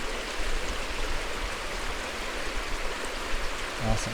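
Waterfall at Palisades Falls in a snowy setting, tumbling onto rock and spraying: a steady, full broadband rush of falling water close by, continuous throughout, with a brief faint voice near the end.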